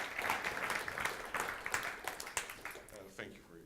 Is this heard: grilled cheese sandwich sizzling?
no